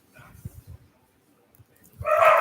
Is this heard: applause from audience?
no